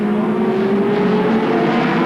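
Touring race cars, Nissans among them, lap Winton racetrack in a 1990 championship round with a dense, loud engine roar. A continuous droning whine slowly shifts in pitch, heard from trackside without pause.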